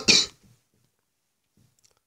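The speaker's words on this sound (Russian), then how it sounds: "извините за кашель" A single short, harsh cough up close, followed by faint breathing and quiet.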